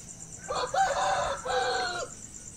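A Basilan or Shamo gamefowl rooster crowing once nearby, a loud two-part cock-a-doodle-doo lasting about a second and a half, over a quiet background with a faint high steady hum.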